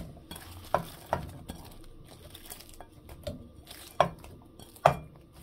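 Chopped onion goes into a pan of spiced mola fish, a few sharp utensil clacks and scrapes of stirring over a faint, steady background hiss of frying.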